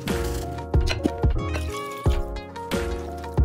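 Water pours into a bowl of condensed cream of chicken soup with gurgling, rising tones and splashy glugs, close and fairly loud, without any speech.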